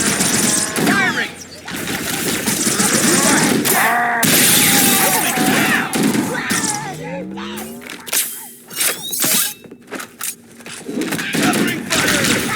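Gunfire in Halo: Combat Evolved, loud dense bursts of automatic fire and sharp shots cutting in and out, with crashing impacts and short voice shouts between.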